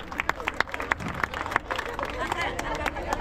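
Neighbors clapping at a birthday celebration for Dr. Juan Enrique Dupuy García in Ate Vitarte, a group of quick, sharp claps in an irregular rhythm, fairly close, over a background of crowd murmur and talk.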